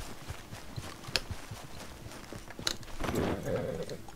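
Horse hooves clip-clop in Red Dead Redemption as the rider heads back. The steps are quiet and moderately spaced, over a faint background, with a brief louder rustle toward the end.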